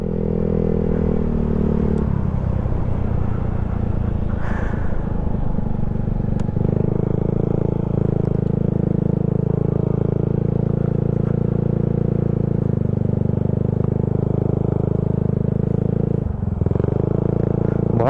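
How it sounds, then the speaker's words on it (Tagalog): Motorcycle engines idle and run on a quiet road in Bauan, Batangas during a group ride, a loud, steady low rumble that continues close throughout with slight shifts in tone. "Yung mga motor, yung ingay lang ng motor natin ang maingay dito no."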